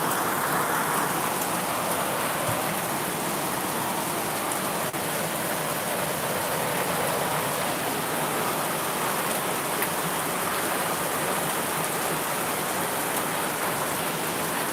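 Heavy rain pours in a steady, dense hiss of drops on surfaces, loud and continuous throughout with no speech.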